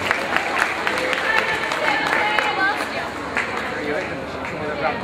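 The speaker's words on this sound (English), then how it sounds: "Big round of applause for couple number 17." Ballroom audience at a juvenile open New Vogue dance competition applauding a couple, continuous clapping with crowd chatter and a voice talking over it.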